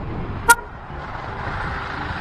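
A car horn gives one short, sharp toot over a low, steady rumble of road traffic in Manila during the night curfew hours.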